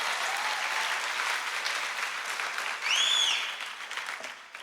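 Applause from a church congregation during a sermon, a steady wash of clapping that rises slightly near the end, with a faint whistle-like tone cutting through briefly.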